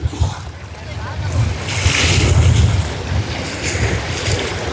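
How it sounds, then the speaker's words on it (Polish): Strong wind gusts across the seashore on Crete, blowing into the microphone as a loud rushing roar with waves washing underneath, rising and falling through the stretch. "Strasznie wieje"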